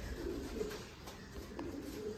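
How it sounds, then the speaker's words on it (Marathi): A pigeon coos softly at a village temple during an anniversary celebration, a few low, rounded calls repeating over faint background hum, with no voices. "ये एक कबूतर इथं एक तिथं ना."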